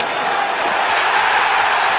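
Hockey arena crowd at a Game 7 between the Toronto Maple Leafs and Boston Bruins, reacting to a body check: a dense, loud, steady roar of many voices that holds for the whole stretch.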